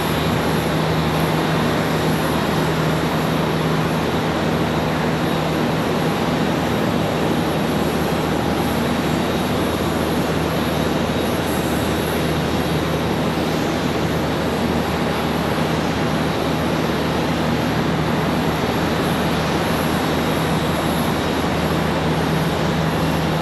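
An A321 airliner inbound from Los Angeles touches down at Charlotte Douglas airport, a steady, loud roar of jet engines and rushing air that holds evenly throughout with no talk.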